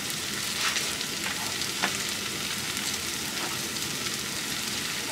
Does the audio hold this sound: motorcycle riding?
no